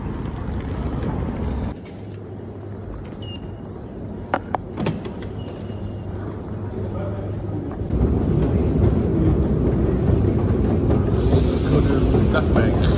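Ambience inside Teltrana metro station in Ukraine: a steady low rumble and hum of the station, a few brief clicks near the middle, then a louder, broader roar of rushing air and movement as a train arrives or passes.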